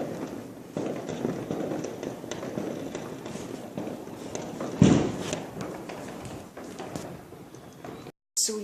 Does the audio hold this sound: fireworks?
yes